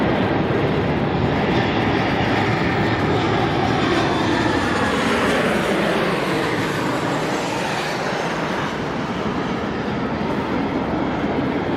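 A low-flying airplane passing right overhead at Sydney Airport, a loud, steady, broad roar filling the whole stretch with no talking, easing only slightly toward the end.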